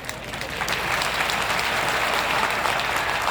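A rally crowd at Amarkantak breaks into applause that starts softly, then swells into a dense, sustained clapping from many hands and holds loud to the end.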